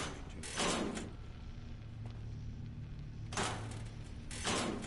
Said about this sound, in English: Another locked door.